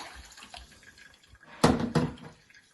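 Tap water runs into a regular pot during the second rinse of rice, with two short, loud gushes of splashing water over faint background noise.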